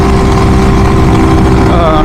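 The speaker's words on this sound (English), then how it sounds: "It sounds like the engine is fairly healthy, from what I can tell, just riding it" A Grom clone motorcycle with a swapped SSR 110 engine running while being ridden, giving a loud, steady buzzing drone with a constant pitch and rough edge, close up throughout.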